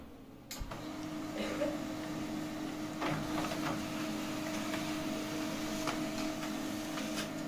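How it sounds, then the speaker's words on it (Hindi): An HP LaserJet MFP M126A printer making a photocopy runs with a steady mechanical hum and faint clicks and whirs, starting after a brief quiet moment and continuing at moderate level without speech. "तो अभी देखिए यहाँ पे हम जेरोक्स करेंगे पहले।"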